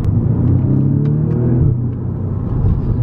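Steady low rumble of a brand-new BMW M car engine while driving, heard from inside the cabin, with a continuous drone and a slight rise in revs partway through.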